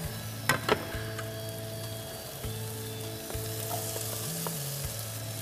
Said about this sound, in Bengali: এখানে একটু আরো কিছুক্ষণ কষিয়ে নেবো শিমের বিচিটা